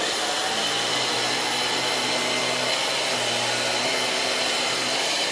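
A Miele Duoflex HX1 stick vacuum runs on a rug, its spinning brush head giving a steady loud whir with a broad airy hiss that stays constant throughout.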